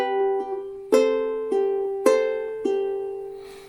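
Ukulele strummed back and forth between two chord shapes, four bright strummed attacks each left to ring out, close and clear with no voices.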